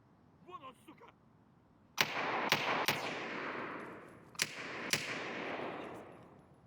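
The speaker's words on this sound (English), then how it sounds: "sniper scav shooting at something, but I don't know what, tower." A sniper scav fires in a shooter video game: five sharp, loud gunshots spaced over a few seconds, each with a long echoing tail, after a brief faint murmur.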